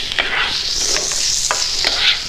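Shrimp and rosemary cook in a pan with a bright, steady sizzle, broken by a few soft stirring strokes as everything is tossed and coated, with no talking.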